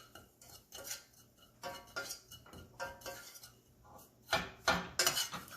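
Dry spices are stirred into oil in a pan, making soft, irregular metallic scrapes and clinks of a utensil against the pan, with a few louder strokes near the end.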